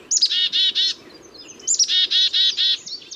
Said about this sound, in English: Even birds who visit backyard feeders, like these black-capped chickadees